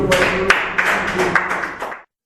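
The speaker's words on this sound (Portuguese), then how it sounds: "Salva de palmas para Jesus" A church congregation claps in a short burst of rhythmic applause for Jesus. The clapping is fairly close and steady, then cuts off abruptly.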